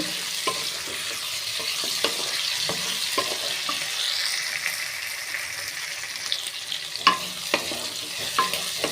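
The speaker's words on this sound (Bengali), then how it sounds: "ভালো করে ভেজে নিতে হবে বন্ধুরা" Pointed gourd sizzles steadily in hot oil in a pan while a utensil scrapes and stirs it in irregular clacks, with no speech over the frying.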